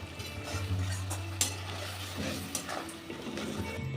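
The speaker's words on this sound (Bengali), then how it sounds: "এবার ঝোলটা একটু ফুটতে দেবো" Pomfret fish curry gravy bubbling in a pan on the stove, a steady low simmering hiss with light stirring and a few clinks of a utensil against the pan, with no talking.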